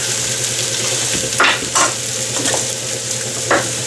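Onions sizzling in a little oil in a pot, a constant loud frying hiss with a few brief scraping stirs of a utensil against the pot, close up and without speech.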